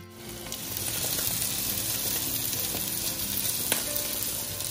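Egg omelette with mushrooms cooking on a low flame in a pan, giving a steady, close, unbroken sizzle that holds at an even level from start to finish with no voices.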